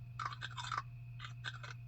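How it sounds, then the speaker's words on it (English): A snail munching on a garden plant's leaves in a children's story, with soft wet crunching bites in two short bursts over a steady low hum. "Peppa, George and Grandpa Pig soon spot a snail munching on Grandpa Pig's plants."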